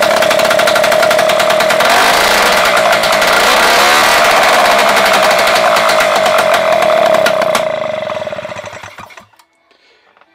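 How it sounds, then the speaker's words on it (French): A rebuilt 3800 engine with its carburettor and jet refitted starts and runs with a loud, close, buzzing drone that holds steady for several seconds, then dies away into silence. "voilà un nouveau moteur qui fonctionne"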